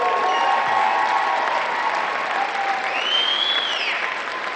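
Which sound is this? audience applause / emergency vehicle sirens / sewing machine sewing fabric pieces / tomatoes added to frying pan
audience applause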